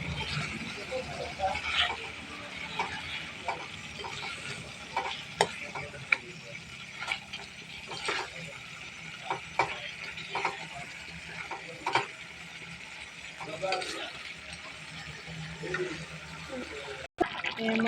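Fish, fried potatoes and peas are stirred in a pan, with repeated scraping knocks of the utensil over a soft background sizzle, with a sharp clack near the end.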